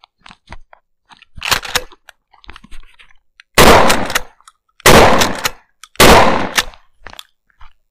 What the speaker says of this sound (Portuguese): Três disparos com calma, centro do alvo.